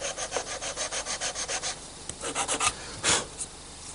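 Hand sanding of a wooden workpiece for a media press prototype, a rapid series of rhythmic back-and-forth rasping strokes, close and clear, with a brief pause before a few final rubs.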